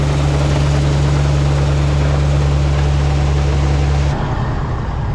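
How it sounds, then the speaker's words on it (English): A grain auger unloading a bin, driven by a 706 tractor alongside an electric motor, drones with a loud, steady mechanical hum and clatter, then cuts off abruptly near the end, leaving a softer rumble. "Grain's coming out of the auger in the bin, into the jump auger, up to the truck"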